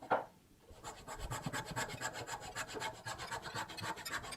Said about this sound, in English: you can hear it really wanting to bind, and it starts to make this little ting, ting, ting, ting, ting noise